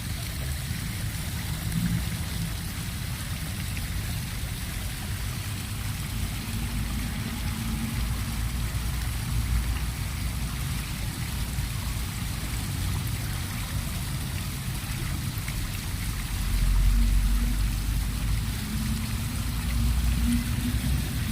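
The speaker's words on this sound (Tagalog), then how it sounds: "Malapit na tong bumaha kasi ano eh, non-stop yung tubig oh." Water gushes nonstop along a stream in a scenic outdoor spot, a continuous, even rushing wash that swells slightly toward the end.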